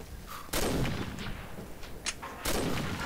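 Gunfire in the Combat Arms shooter game, with an M2 Browning and a SCAR-L in play: two loud, close bursts of shots with a quieter stretch of distant firing between them.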